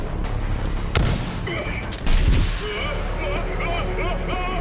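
Pistol gunfire in the video game Rage 2: a couple of sharp, loud shots about a second apart, each with a booming tail, over steady game ambience and faint chirping tones.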